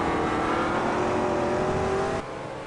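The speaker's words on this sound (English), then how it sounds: "The Red Bull McLaren passes the Red Bull Riley right there" A Red Bull McLaren race car in a racing video game roars past with a sustained, rising engine whine that cuts off abruptly near the end, leaving quieter background engine noise.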